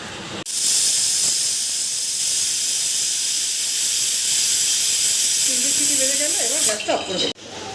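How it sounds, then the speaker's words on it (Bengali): A pressure cooker with mutton inside lets out a long, loud, continuous steam hiss for several seconds, and a voice briefly talks under it near the end. "এটা আমি প্রেশার কুকারে দিয়ে তিন চারটে সিটি বাজিয়ে নেবো"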